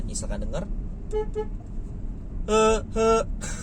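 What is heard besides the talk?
Hyundai Creta snail car horn honking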